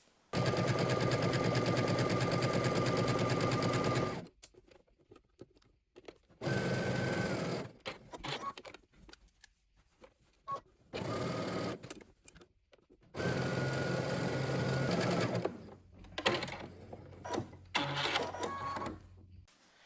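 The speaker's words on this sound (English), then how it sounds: "using a very, very narrow zigzag stitch, you're just gonna go ahead and baste both of these together" A sewing machine runs in bursts, basting a dress's shelf bra in place with a very narrow zigzag stitch; steady mechanical whirring comes in several stops and starts, close and loud, with no talk.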